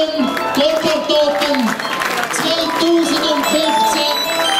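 Crowd applause for the champions at the Gotthard Open 2015 show, steady clapping underneath a loud voice talking over a microphone and background murmur.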